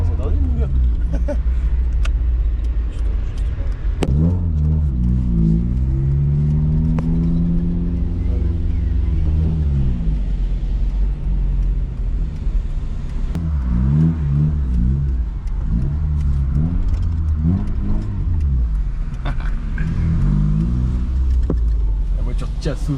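A damaged Honda Civic's engine revs in several rising and falling bursts over a steady loud rumble, with people talking throughout.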